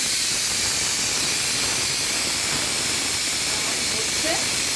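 Onions frying in a pan for mutton biryani, a steady loud sizzling hiss filling the whole stretch, close up, with a voice talking faintly over it.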